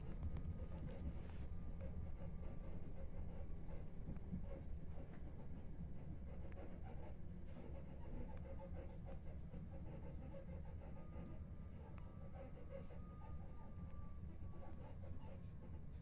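Southern Rail train pulling into Foxhill and West Humble station, a steady low rumble and rolling noise heard from inside the carriage, with faint squeals of braking.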